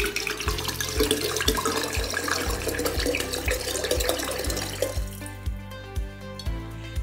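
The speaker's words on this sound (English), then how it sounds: "And now we're gonna add 375 mils of vodka." Vodka pours steadily into a lemonade pitcher with a continuous liquid splash for about five seconds, then tapers into gentle trickles, close and moderately loud over soft background music.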